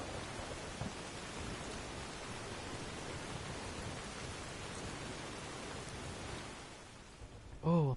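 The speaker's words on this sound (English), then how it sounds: "Ooh, look at that rain." Steady rain falls in the video game Skyrim, a dense, even hiss of downpour that holds throughout with no talk, ending with a brief louder sound.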